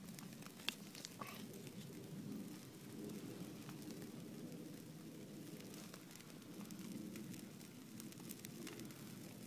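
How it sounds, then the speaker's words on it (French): Steady rain falls at a waterside campsite beside a newly lit campfire, a soft, even wash of patter with a faint distant rumble and no talking. "Bon là il se remet à pleuvoir mais il n'y a pas de souci."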